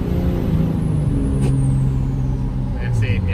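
A Cummins 5.9 diesel pickup with an S468 turbo is floored on a snowy road near freezing, its loud engine droning steadily as the pitch steps down with a downshift.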